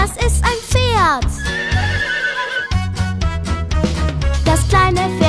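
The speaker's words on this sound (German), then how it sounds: "1, 2, 3, das ist ein Pferd." A horse whinnies in a high, wavering neigh near the start, with clip-clop hooves and bright music playing around it.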